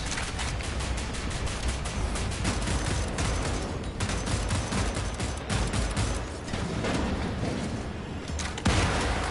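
Heavy-recoil gun fire in the shooter game Wolfenstein: The New Order, dense and loud, with rapid repeated shots and booming impacts that run continuously through the scene.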